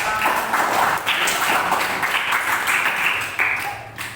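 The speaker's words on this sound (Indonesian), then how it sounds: "Tepuk tangan dulu untuk kita semua." A classroom of students claps their hands together in a dense, steady burst that fills the whole moment, then tapers slightly at the end.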